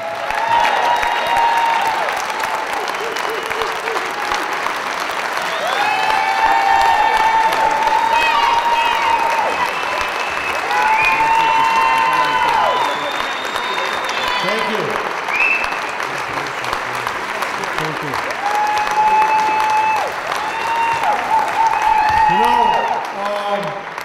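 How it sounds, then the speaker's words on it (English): A long round of applause at a retirement dinner, with steady, dense clapping from a room full of guests, scattered cheers and voices mixed in, lasting over twenty seconds. "let's give a big round of applause for Stan"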